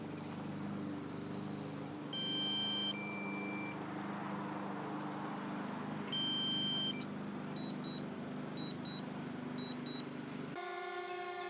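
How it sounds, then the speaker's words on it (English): Electronic beeping from a drone: two short multi-tone chirps a few seconds apart, then a run of quick repeated beeps over a low hum. "you don't want to hear that thing beeping the whole time"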